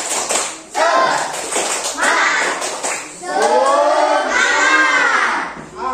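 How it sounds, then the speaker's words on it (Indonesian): A classroom of children doing a rhythmic spirit clap, sharp clap bursts mixed with loud chanting and shouting voices in several energetic waves, fairly close. "Boleh tepuk semangat dulu? Tepuk semangat."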